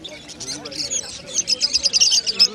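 Caged lutino birds chirp at a busy bird market in Uluberia. Rapid, bright tweets grow denser and louder toward the end, mixed with faint voices and market noise.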